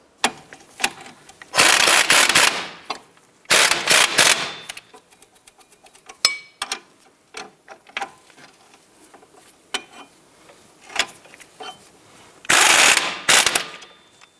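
Nuts on a 2008-2013 Nissan Rogue front strut assembly being tightened: three loud, close, rapid rattling bursts, like a power tool, separated by quieter clicks and light mechanical knocks.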